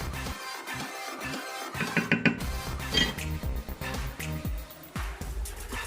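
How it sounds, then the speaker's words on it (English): A metal lid clatters onto a pot of simmering spaghetti bolognese sauce. Rattles and clinks of cookware come close and uneven, with a brief scraping flurry in the middle. "we're gonna put the lid on this here in a second"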